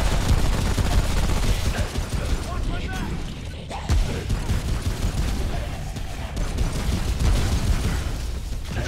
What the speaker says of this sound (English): I'm just gonna shoot shit.